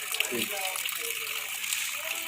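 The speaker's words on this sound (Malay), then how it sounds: "Air mengalir sendiri, api di atas." Water gushing on its own from a village well in North Aceh that is also emitting gas, a steady broad rushing wash with no pauses, filling the whole moment without voices.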